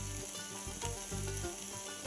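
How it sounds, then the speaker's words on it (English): Regular bacon renders in a pan with butter and oil, giving a steady, close, crackling sizzle throughout with no talk. "Bacon, butter, oil. This is regular bacon. I'm going to just render it in the pan."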